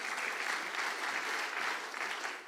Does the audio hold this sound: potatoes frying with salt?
no